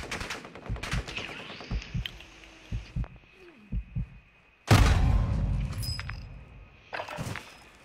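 Bursts of rapid automatic gunfire in a video game shooter, with single shots early on, then a loud sustained volley, heard close and punchy over a faint background tone.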